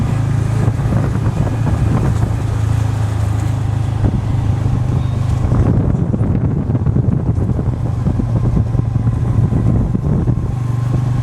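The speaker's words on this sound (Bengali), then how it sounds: "জাস্ট বাইক চলছে আর আমরা এগিয়ে যাচ্ছি।" A motorbike rides along a road at dusk, its engine a low continuous drone beneath heavy wind buffeting the microphone, steady and loud throughout without talk.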